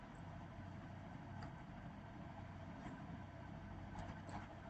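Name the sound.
hybrid vehicle engine running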